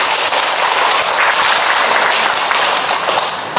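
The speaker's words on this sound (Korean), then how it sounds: "우리 박수 한번 쳐줍시다" Dense, loud applause from a class audience at a moss bonsai terrarium workshop, a steady wash of many hands clapping that holds for the whole stretch with no talk over it.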